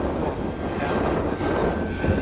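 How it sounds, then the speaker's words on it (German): An RC scale model helicopter hovers over its landing point at a model flying event, a steady close rotor and engine drone with no pauses. "dann über den Landepunkt zum Schweben kommt, um dort dann wieder sauber und langsam abgesetzt zu werden"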